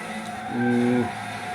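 NASCAR race cars in the Gran Turismo 6 video game, heard as a short burst of engine drone with a rising, squealing tone in the middle before settling back to a steady hum, with no talking.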